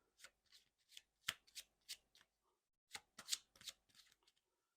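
A discard deck of cards for the ArchPiratus card game shuffled thoroughly by hand: two runs of close, crisp riffles and snaps with a short pause between them, and no voices.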